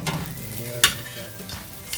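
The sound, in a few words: meat sizzling on a hot grill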